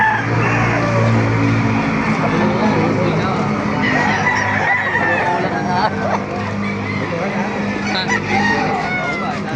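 Chickens cluck and a rooster crows amid a busy, noisy chicken market in Baliuag, Bulacan, Philippines, with voices talking in the background throughout.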